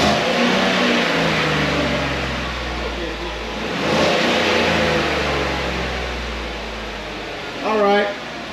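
A stock 5.3L V8 in a 2018 GMC Sierra pickup idles with a low steady rumble, swells through a couple of moderate revs and settles back, while someone talks over it.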